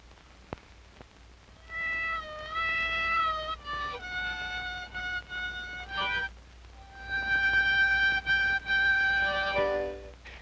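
A harmonica plays a song in an old Hollywood film as a series of sustained, clear tones. The notes start and stop in short phrases, with a few quiet gaps between them.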